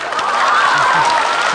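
Audience applause fills a crosstalk comedy show, with a short, steady burst of clapping and faint cheering from the crowd.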